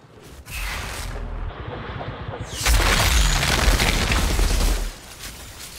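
Mortar shots in the Outriders game land as heavy booming explosions, a sustained rumbling blast that swells loud and close, then trails off, with scattered crackle and no talk over it.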